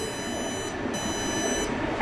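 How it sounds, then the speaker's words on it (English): A chip shop deep fryer timer buzzer sounds as a steady electronic tone over the hum of the fryer range, continuous throughout and close by. "There's my buzzer."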